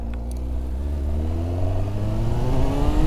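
A 1999 Kawasaki Ninja ZX-9R motorcycle engine revs up close, its pitch climbing steadily over a few seconds with a loud, continuous tone.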